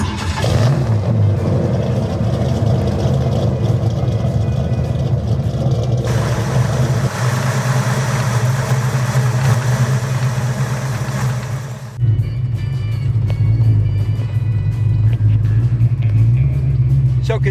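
A 1965 Ford Mustang Fastback with an old carbureted engine runs close by with a loud, steady low rumble. The tone shifts partway through as it settles into a rough idle.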